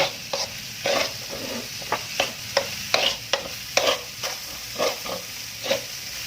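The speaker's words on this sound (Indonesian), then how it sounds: "Ini tidak perlu waktu yang lama untuk menumis si beras ketan ini." Glutinous rice is sautéed in a pan with salt and mushroom stock, a spatula scraping and tossing in an irregular rhythm over a soft ongoing sizzle, close up and without speech.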